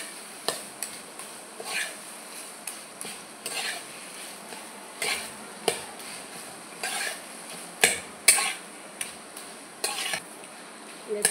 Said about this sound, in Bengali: চিনিটা দিয়ে ভালো করে নেড়ে চেড়ে মিশিয়ে নেব